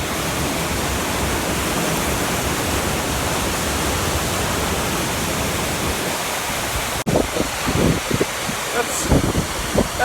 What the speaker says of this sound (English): That's a lot of water.